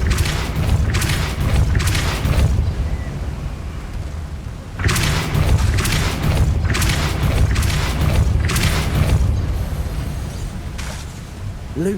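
Depulso spell cast in Hogwarts Legacy, heavy booming magical blasts recurring every second or so in two clusters over a rumbling game backdrop, loud and close.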